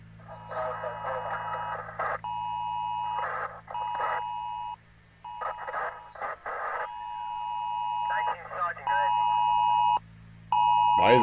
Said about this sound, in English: Oh, emergency alert.